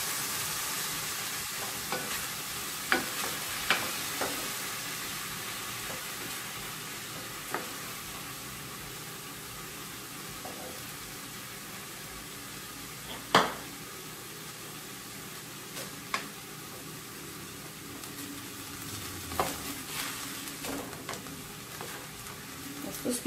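Chopped onion and sweet pepper fry in a pan with a steady hiss and sizzle, and occasional clicks and scrapes of stirring sound close by.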